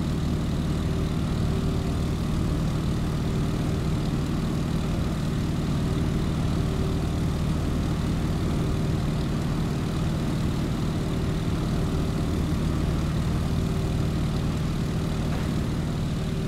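Propeller airplane in Microsoft Flight during its takeoff roll, a continuous loud droning engine roar with steady low hum holding constant throughout, no talking.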